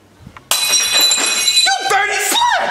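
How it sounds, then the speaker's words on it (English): Glass breaks with a sudden loud shatter that rings and sprays on for about a second, followed by a high excited voice, in a comedic puppet-show scene. "You just broke glass!"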